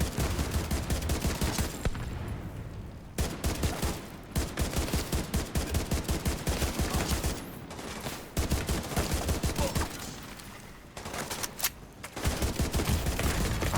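Dense bursts of rapid automatic gunfire in a video game firefight, loud and close, repeating in long volleys with short pauses between them.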